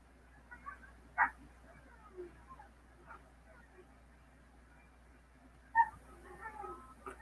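Puppies giving a few short, faint yips and whimpers at a distance, scattered sparsely among quiet room noise while a person talks.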